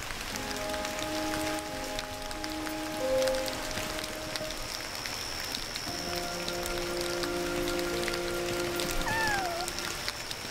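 A cat in the video game Yonder: The Cloud Catcher Chronicles gives a short rising-then-falling meow near the end, over a steady bed of rain-like ambience and sustained musical tones, with no speech.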